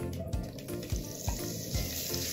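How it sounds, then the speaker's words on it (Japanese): Ground meat hits a heated frying pan over medium heat and sizzles steadily with a watery hiss and soft rhythmic low thumps, close up and without talk. "温まったフライパンにひき肉イン。"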